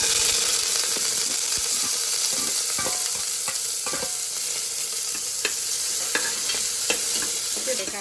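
Small shallots frying in hot ghee for a Kerala-style kalathappam, a dense, steady sizzle up close with scattered light scraping and clicking from stirring throughout, no voices.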